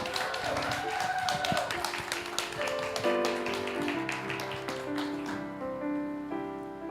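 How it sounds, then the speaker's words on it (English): An audience at a live event in Roanoke claps, giving a loud burst of close hand claps that thins out as sustained musical tones carry on underneath. "one more round of applause,"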